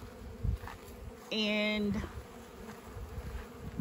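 Honey bees swarm and buzz loudly at an opened wooden hive heavy with honey and overrun by ants, a sharp, close, droning burst lasting about half a second over faint background noise.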